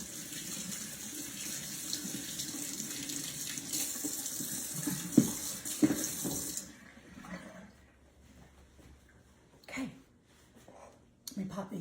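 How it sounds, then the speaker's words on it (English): Water runs steadily from a kitchen tap as hands are rinsed during cookie baking. The flow stops about two-thirds of the way through, and a few quiet clatters and handling sounds follow. "I'm going to rinse my hands really,"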